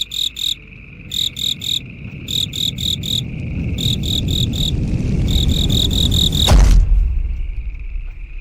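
Crickets chirping as a sound effect, loud pulsed trills in regular bursts over a rising rumbling background, then cut off abruptly by a thud.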